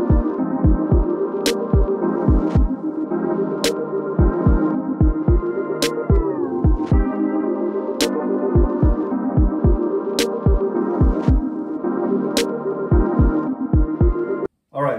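A drill paddle mixing porcelain tile thinset mortar: a steady, throbbing motor hum that dips in pitch briefly as the load changes, with regular clicking knocks throughout, close and loud, then a sudden short stop near the end.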